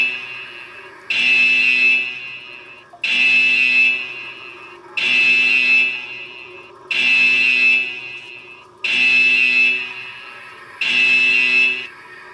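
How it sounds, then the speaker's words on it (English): A loud electronic alarm blares in six regular pulses, each about two seconds long with short gaps, a harsh buzzing tone repeating steadily with no talk. "Herr Obermeister reversed the last two numbers, so I've got the alarm off."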